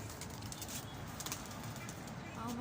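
Pigeons at a loft, with soft cooing and a rustle of flapping wings, faint and close-by under steady background noise, with a voice nearby.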